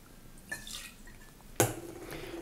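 Bourbon whisky is poured in a 50 ml measure into a Manhattan cocktail, with a brief trickle early on, then a sharp clink followed by a short steady liquid stream, close and fairly quiet.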